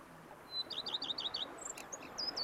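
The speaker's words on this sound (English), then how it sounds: "Bees buzzing, birds chirping" Birds chirping in a peaceful countryside scene from The Witcher 3: Blood and Wine: a run of quick, bright repeated tweets followed by a few scattered higher calls, clear and fairly close over a soft ambient background.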